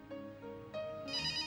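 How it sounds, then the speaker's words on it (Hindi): A telephone rings indoors with a quiet, electronic ringtone melody that changes pitch in steps. It sounds alone, with no talk over it. "विकी फोन बज रहा।"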